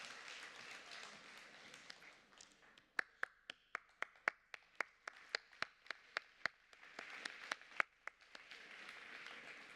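Audience applause at a disability summit: a crowd claps steadily, then distinct sharp individual claps ring out in a regular rhythm before the broad applause swells again, moderately loud in a large hall.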